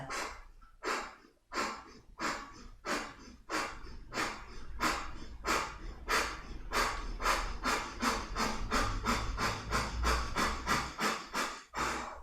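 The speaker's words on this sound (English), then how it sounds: "Now this time we're going to do a little breath of fire. So strong inhale and exhale through the nostrils and the belly just draws back on the exhale." Forceful, rapid breath-of-fire exhales through the nostrils during a yoga session, a close, rhythmic series of sharp puffs that speeds up into an even, steady pulse.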